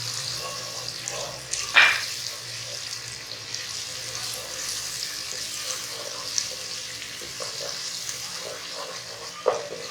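Ginger and garlic fry in a pan with tomatoes and chopped green chilies for Qaboli rice over lowered flame, a constant soft sizzle broken by a couple of clattering utensil knocks.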